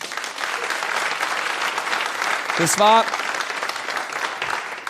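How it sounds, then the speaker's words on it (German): A comedy show audience applauds steadily throughout as a broad wash of clapping, with someone briefly speaking over it partway through. "Mal klatschen, bitte."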